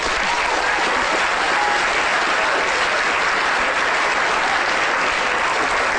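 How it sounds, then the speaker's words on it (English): A lecture audience claps loudly and continuously for a volunteer, a thick, uniform wash of applause that fills the room without letting up and carries no talk. "Applause for Amy, please."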